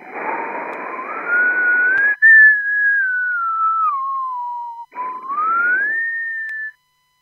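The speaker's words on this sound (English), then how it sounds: "If I whistle," A clear whistled tone glides up and down in pitch, sustained for several seconds with a brief gap, at times over a hiss of noise.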